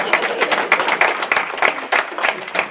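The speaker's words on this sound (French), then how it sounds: "Il faut l'applaudir, il a trop souffert pour cette cérémonie, il faut l'applaudir." Audience at a COJEP political conference with Charles Blé Goudé breaks into steady, dense clapping that keeps a busy, unbroken texture throughout, with no voices standing out.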